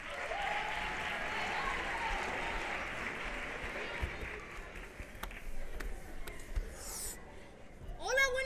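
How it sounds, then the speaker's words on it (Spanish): Audience applause at a Spanish youth quartet comedy performance, a dense steady clapping wash that fades gradually, with scattered voices and a few sharper sounds near the end. "¡Fuerte aplauso!"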